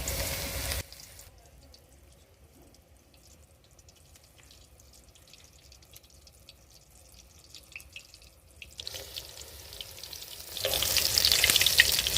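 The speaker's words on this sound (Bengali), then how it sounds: "অল্প অল্প করে ধনে পাতাগুলোকে নিয়ে বেসনের মধ্যে ডুবিয়ে তারপর ভেজে নেবো" Coriander leaf fritters dipped in gram flour batter sizzle in hot oil, with a loud crackling burst at the start, a quieter simmering stretch, then the frying grows loud again near the end.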